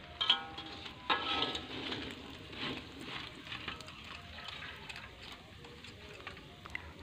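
Flour-coated tempe deep frying in hot oil, a soft, steady sizzle and crackle heard from close by, fairly quiet, with a few brief clinks near the start.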